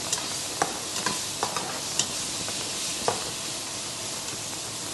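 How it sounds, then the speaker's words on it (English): Onions softening in a pan over low heat for an Indian restaurant-style curry: a steady close sizzle with scattered soft clicks of a utensil stirring, no voices. "We don't want to cook it too hot. We just want the onions to nice and soften, basically."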